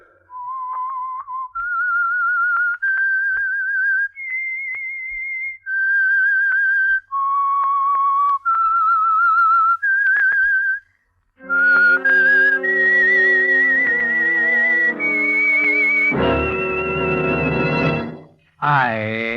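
A lone whistler carries a slow, rising and falling melody in clear sustained notes, then a full orchestra swells in to take over the tune, the theme of a 1947 radio drama.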